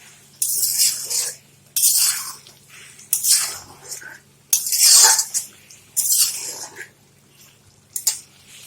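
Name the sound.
chicken scrap meat being stir-fried in a pan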